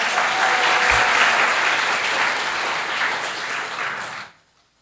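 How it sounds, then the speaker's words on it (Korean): A church congregation applauds students during a Sunday worship service, steady clapping filling the room for about four seconds before cutting off abruptly. "다시 한번 격려의 박수 한번 쳐."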